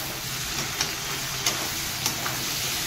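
Two bay leaves sizzle in hot oil with a soft, even frying hiss and a few faint ticks and pops. The sound is fairly quiet and close, with no talking.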